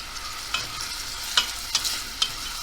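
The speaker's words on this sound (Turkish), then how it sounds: "Isıttığım yağ soğanlarımı ilave ediyorum." Onions sizzle and crackle in hot vegetable oil, with a few scraping stirs of a utensil against the pan.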